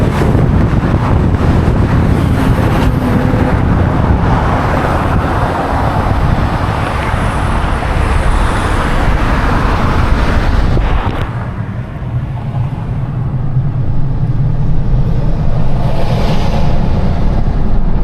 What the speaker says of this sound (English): There's traffic on the road.